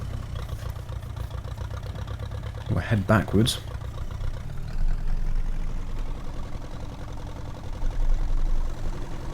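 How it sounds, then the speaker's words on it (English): A tractor engine is cranked and starts with a brief burst of noise, then runs at a steady low idle close by while someone speaks briefly over it. "let's get this tractor fired up"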